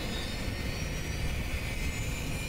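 A jet aircraft passes overhead in the Sniper Elite 4 video game, a steady broad roar with a high whine, moderately loud and continuous, with no talking.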